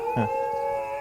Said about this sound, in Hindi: तो कितनी जोर से पूरा के पूरे झुंड की आवाज आ रही है यहाँ पे।